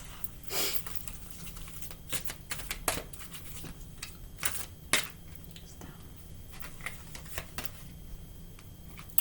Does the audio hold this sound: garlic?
no